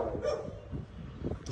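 A dog that looks menacing barks and yips a few times at a moderate distance, short sharp calls over low background noise.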